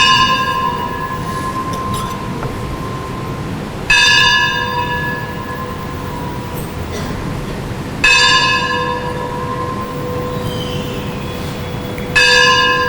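A bell rings loudly nearby in slow, evenly spaced single strikes about every four seconds, each leaving a long ringing hum between strokes. No one speaks.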